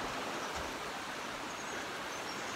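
Steady broadband wash of surf and outdoor nature ambience along the Nova Scotia shore, a constant soft roar with no clear individual wave breaks or voices.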